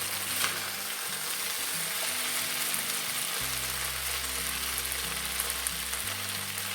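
Squash, okra, potatoes and onions fry in a pan as the vegetables brown, giving a steady, even sizzle that runs throughout with a low hum underneath.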